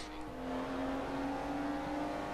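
Simulated F1 car engine from the F1 2015 racing game, Austrian Grand Prix, entering the pits in the wet: a steady, near, high-pitched engine drone holding one sustained tone for about two seconds, with no talk.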